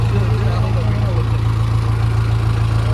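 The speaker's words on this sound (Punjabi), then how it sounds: "ਟਰੈਕਟਰ ਆਪਣਾ ਸਟਾਰਟ ਆ ਚੱਲਦੇ ਆ" A tractor engine idles steadily and loudly with a low, constant rumble throughout, with faint voices barely audible underneath.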